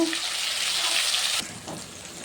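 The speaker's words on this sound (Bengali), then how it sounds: "আদাটাকে ভালো করে ভেজে নেব।" Ginger paste fries in oil with green chillies and asafoetida, a bright hissing sizzle that runs strong, then suddenly drops to a softer sizzle partway through, with no voices.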